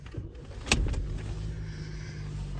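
A Vauxhall Insignia car starting up from inside the cabin, with a sharp click and brief cranking followed by the engine settling into a steady low idle.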